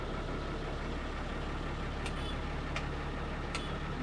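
A restored 23-year-old Tamil Nadu mini bus with a BS3 engine idles in a steady, even low rumble, with a few faint ticks on top.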